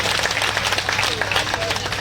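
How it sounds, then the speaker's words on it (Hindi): Steady, dense applause from the audience at a comedy poetry show, clapping for the poets at close range, with a few voices mixed in. "कवियों के नाम पे ताली हल्की बजाओ"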